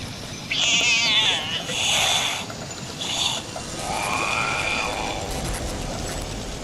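A cat in Fallout 76 gives a few clear, close meows in quick succession, followed by a longer drawn-out meow, over faint game background noise.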